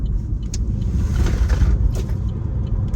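Car cornering sharply on Continental TrueContact Tour tires, loaded with cargo: a steady, loud road and engine rumble throughout, with no clear tire squeal standing out.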